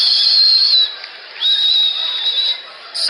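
A person mimics a whistling sound while walking: two sustained, steady high whistles with a short break between them, loud and close.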